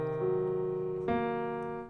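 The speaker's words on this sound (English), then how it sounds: "Here's the half diminished 7th." A half diminished seventh chord played on a keyboard, sounded once and then struck again partway through, ringing out clearly and moderately soft, alone with no talking.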